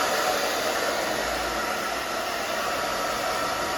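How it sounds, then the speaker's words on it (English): A hair dryer blows steadily and close at full power while hair is dried in a bob haircut makeover. The airy roar is constant with no talk. "and now we're going to blow dry. And just blow dry this down"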